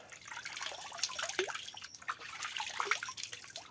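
Water from a natural spring trickles and drips gently close by, soft and steady with small splashes and no voices.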